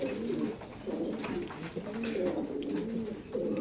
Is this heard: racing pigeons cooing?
yes